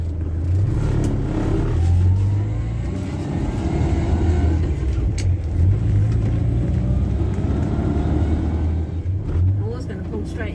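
A Morris Minor car driving on an English road in spring, its low engine rumble steady and close inside the cabin while someone talks over it.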